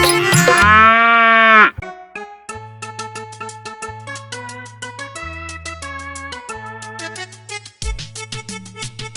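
A single loud, drawn-out cow moo opens, then a cheerful Hindi nursery-rhyme melody with a plodding bass takes over.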